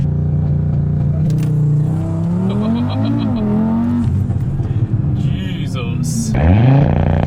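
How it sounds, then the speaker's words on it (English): A 600-horsepower Audi RS3 launches hard from a rolling dig, its engine roaring and climbing through rising revs with a gear change midway, loud and close inside the car, while people talk over it. "the thing I'm most excited about is doing a dig in this car"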